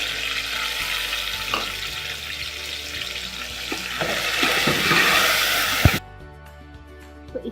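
Chopped medium tomatoes go into browned onions in a pan, setting off a loud, steady frying sizzle with clattering stirring knocks, which cuts off abruptly into a quieter stretch with a few scattered taps.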